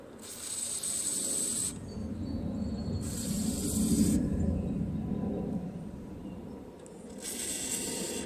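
Aerosol WD-40 sprayed in several short hissing bursts onto the springs, joints and moving parts of a Craftsman 5 HP 24-inch two-stage snow blower, heard close over a steady low background rumble.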